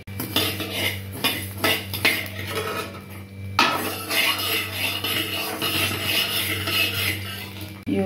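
Green chillies roasting in a pan for pickle, with steady scraping and clinking of a metal utensil against the pan throughout, close and fairly loud, with no one talking.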